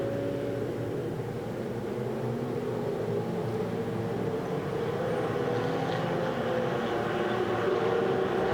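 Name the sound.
Ferrari Challenge race cars pairing up behind the safety car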